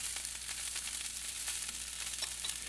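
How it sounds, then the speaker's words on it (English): Mushrooms and broccoli frying in oil in a pan, a steady close sizzle with fine crackling pops throughout and no talk. "the first thing I'm going to do is cook some vegetables in some oil"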